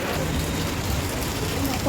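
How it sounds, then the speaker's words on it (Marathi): Heavy rain falls in a dense, steady roar of hiss and patter, loud and close with no break across the short span. "खूप जोरात पाऊस आला"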